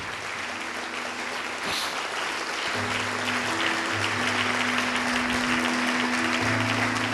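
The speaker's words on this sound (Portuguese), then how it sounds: "vamos aplaudir ao nome do Senhor, igreja" A church congregation applauding the Lord's name, steady dense clapping from a large crowd in a hall with music droning underneath, growing fuller and louder as it continues.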